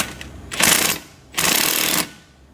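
An impact wrench hammers away on a farm job in two loud, rattling bursts of roughly half a second each, separated by a short pause, heard close with no talking.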